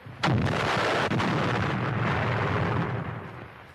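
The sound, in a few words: sniper rifle shot firing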